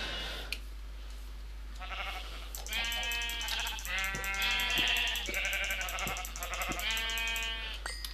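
Repeated sheep bleats from Minecraft sheep, a run of several wavering calls of game sound effects, fairly loud and close, following a brief quiet start with no talk.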